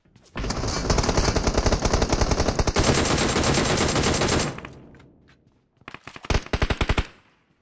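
Rapid gunfire bursts from a Free Fire duo-versus-squad match, a long dense volley of automatic shots followed by a pause and then a shorter string of distinct loud shots, with no talking.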